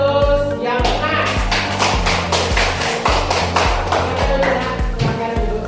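A classroom of students breaks into rhythmic group clapping, a loud, close run of steady beats that holds an even pattern and fills the room.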